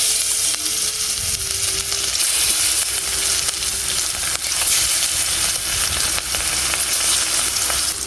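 Hilsa fish fry in hot oil in a wok, a loud, continuous close sizzle and crackle that holds steady, with a faint hum underneath.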